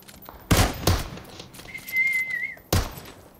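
Gunshots in the PUBG Mobile arcade map, with three sharp broadband bursts, two close together near the start and one near the end, plus a sustained whistling tone between them.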